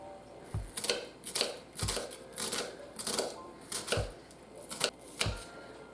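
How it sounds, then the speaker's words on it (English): Onion chopped with a knife on a board for Polish potato soup: a steady series of crisp knife strikes with dull thumps, close and fairly quiet, no voices. "First we chop"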